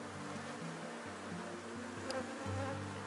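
Honeybees and drones swarm over a brood frame pulled from a hive during an inspection, a dense, continuous buzzing drone with shifting pitch, close and steady with no talking.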